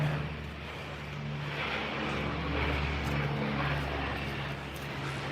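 A low-flying propeller plane passes over downtown Reykjavík, Iceland, its engine a broad, steady drone that swells slightly mid-pass and sits above faint street traffic, with no talking.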